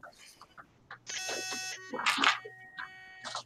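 Steady electronic tones ring out among voices, a sustained high beeping that holds for under a second, with short chirps before and after.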